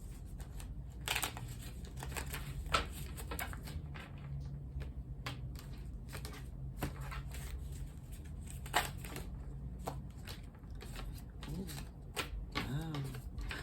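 Tarot cards are shuffled in a rapid patter of soft riffles and flicks, quiet and close, with sharper snaps scattered throughout and a brief whirring riffle near the end.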